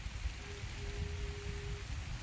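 Rain falls steadily on open farm fields, a continuous broadband hiss with a faint low steady tone running through, no talking.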